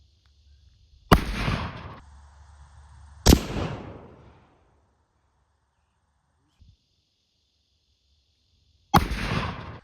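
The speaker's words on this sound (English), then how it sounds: "So let's put some shots down at that target." Three sharp rifle shots from an M44 Mosin Nagant carbine fired at a target crack out loud and close, spaced unevenly, each followed by a brief echoing decay and quiet in between.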